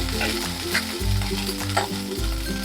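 Small mourola fish fry in hot oil with a loud, steady sizzle that continues unbroken throughout, crackling close by with no talking.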